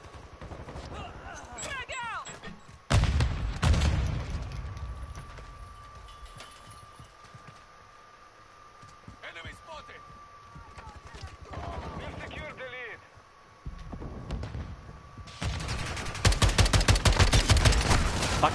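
Gunfire in Call of Duty Modern Warfare II, loud bursts of automatic fire and sharp shots arriving in clusters, the heaviest near the start and the end, with a sustained tone and some talk between volleys.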